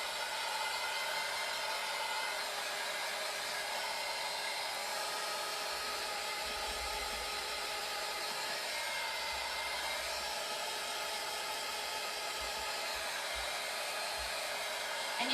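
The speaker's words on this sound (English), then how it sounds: "you can just dry this with a hair dryer at home" A hair dryer blows steadily and loudly, a constant close-up whoosh that holds unchanged with no voices.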